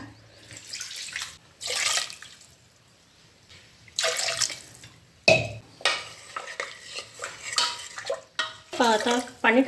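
Water is poured into a pan of salted, marinated food in a rustic village kitchen, and the contents are stirred. Bursts of pouring and scraping come close and uneven, separated by short quiet gaps.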